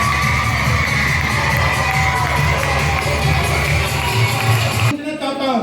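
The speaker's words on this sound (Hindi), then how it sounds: "एक बार ताली बजाइए, सब ताली बजाइए इनके लिए।" A large indoor audience at a business seminar cheers and shouts loudly without pause, a dense crowd roar that cuts off sharply near the end.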